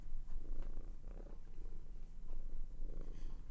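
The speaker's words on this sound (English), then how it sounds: "Are you purring?" A cat purring close to the microphone, soft rhythmic rumbling in repeated breath cycles, fairly quiet and without talk.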